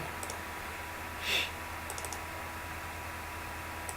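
A few sparse, quiet keystrokes on a computer keyboard during a Minecraft session, spaced irregularly over a steady low background hum.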